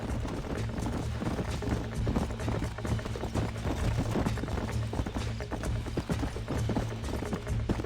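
Horse hooves galloping in the Red Dead Redemption video game, a dense, rapid clip-clop that drives on steadily and loudly with no pause.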